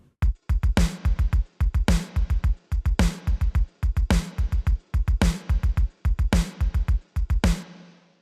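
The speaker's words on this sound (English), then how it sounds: "that sounds very much like a plate reverb from one of the 224 type reverbs from back in the 80s" Retro LinnDrum machine groove repeats with tight kick and hats, while each snare crack blooms into a bright, splashy 224-style plate reverb tail.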